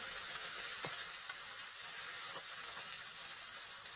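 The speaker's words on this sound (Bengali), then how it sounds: "তো এবার আমি আলুটাকে 3-4 মিনিটের মতো ভেজে নেব।" Potatoes with a green chilli fry steadily in a pan, giving a soft continuous sizzle with a few faint stirring taps, fairly quiet throughout.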